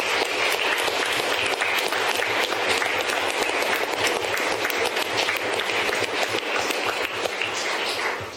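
Steady, dense applause fills a city commission meeting room in Covington, many hands clapping continuously at an even, moderate level for several seconds with no clear voices on top.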